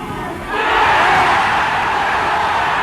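A boxing crowd at a 1989 fight roars and yells as it rises to its feet, a dense swelling cheer that holds loud and steady with no clear voice above it.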